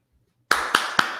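A few sharp hand claps, four crisp slaps spaced about a quarter second apart, close and loud after a brief silence, with no talking.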